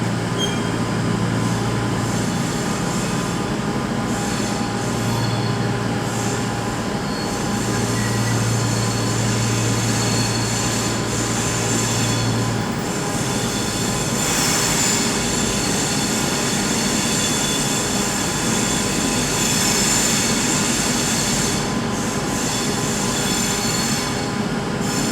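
Trains at Birmingham New Street station on the West Coast Main Line make a sustained, loud rumble with long screeching wheel squeals and droning engine hum, close by and without talk.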